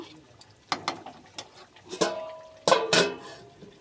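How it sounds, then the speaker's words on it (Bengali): A spoon stirring Bengali lote fish curry in a pot, giving scattered metallic scrapes and clanks at an irregular pace, close and fairly quiet, with two louder clatters near the end. "ঢাকা খুলে নাড়িয়ে নেব"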